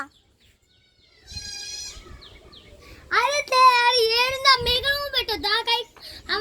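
A goat bleats in a series of wavering, nasal cries, first a brief call and then a longer, louder run of bleats that sound close and carry over faint background noise.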